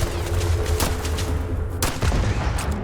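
Turret gunfire in the video game Starfield, a loud burst of rapid shots with sharp cracks and booming low thuds, firing in quick clusters with a brief lull in the middle and no voices.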